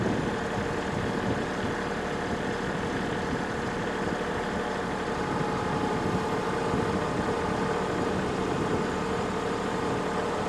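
Tractor engine held at 1,500 RPM while its front loader lifts a strapped load, a loud, steady diesel drone running continuously without pause and with no talking.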